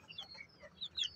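Faint, soft clucking and thin chirpy calls from a broody hen, a few short notes scattered over a quiet background hiss.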